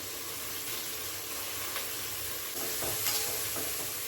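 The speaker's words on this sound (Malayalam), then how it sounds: "രണ്ട് കറിവേപ്പില ഇട്ട് കൊടുക്കാം." Curry leaves dropped into hot oil sizzle with a steady, close hiss and scattered crackling pops, with no voices over it.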